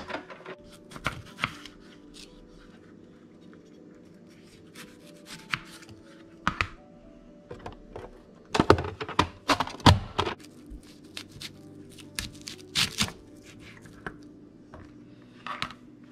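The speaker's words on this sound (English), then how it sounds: "And now we are going to cut up the veggies." A knife chops vegetables for a spicy striped bass ceviche. Close, irregular cutting taps strike a board in short bursts separated by pauses, with a denser flurry of chops in the middle.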